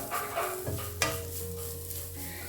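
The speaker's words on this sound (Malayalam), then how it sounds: "ഇങ്ങനെ ഇട്ടിട്ടൊന്ന് മിക്സ് ചെയ്താൽ മാത്രം മതി" Grated carrot being stirred into a masala mix in a pan with the heat off, a soft continuous scraping and gentle rustle with one sharper spoon knock near the middle.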